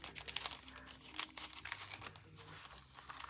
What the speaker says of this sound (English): I'm going to go back and see if I can grab my baking stickers and see.